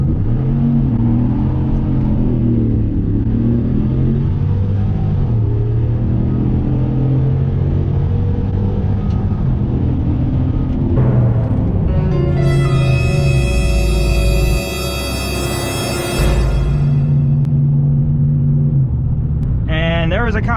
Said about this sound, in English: I'm probably gonna tear it up, but I'll do a little launch. I'll get up speed and probably hit the brakes